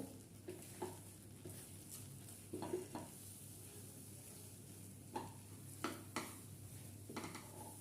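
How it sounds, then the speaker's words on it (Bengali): Modak filling stirred in a pan over a low flame for a Ganesh puja sweet, with soft scraping strokes and clinks of a spoon against metal over a faint steady sizzle, spaced irregularly and fairly quiet. "গ্যাসের ফ্লেমটা এই সময় লো ফ্লেমে করে ভালো করে নেড়ে মিশিয়ে নেব"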